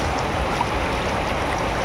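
An icy mountain river in Uttarakhand rushes steadily in a broad, even wash of flowing water, close and constant with no other sounds.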